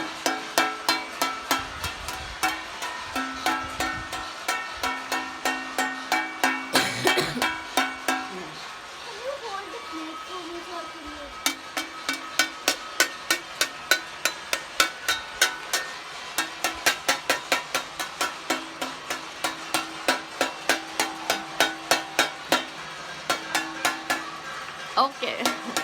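Crowds on balconies in Hyderabad during the Janta curfew clap and bang pots, pans and metal utensils in a dense, continuous clatter, becoming rhythmic steady beats near and far, with voices talking in between.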